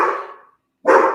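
A dog barks twice at close range, two loud sharp barks separated by a brief silence, with no other sounds around them.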